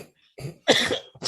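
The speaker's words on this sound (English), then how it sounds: "Excuse my coughing, people." A person with a cold coughs several times in quick succession, close and fairly loud, with harsh bursts separated by brief pauses.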